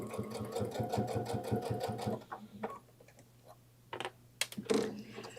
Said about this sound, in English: I'm going to back stitch just a little bit.